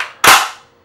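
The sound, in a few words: racking SKS rifle charging handle in bullpup stock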